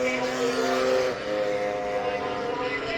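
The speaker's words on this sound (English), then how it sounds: "You still hear that strange misfire on the Hornet Racing 4E." Hornet Racing 4E stock racing scooter at an Anglesey circuit race, its buzzing two-stroke note heard from a distance with an uneven, stuttering misfire, under a commentator's voice.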